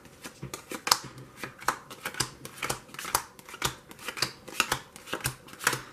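Cards from a dungeon board game deck being dealt out into six piles on a table, a series of quick light slaps and flicks in an uneven rhythm, close and fairly soft.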